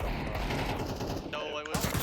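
Automatic gunfire in Counter-Strike 2 rattles steadily and loudly through most of the moment, dense and continuous, then thins out toward the end.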